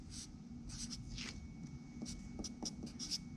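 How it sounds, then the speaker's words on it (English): Marker or chalk strokes on a classroom board, soft scratchy squeaks in quick short bursts, close and faint over quiet room tone, with no talk. "I like to write them vertically"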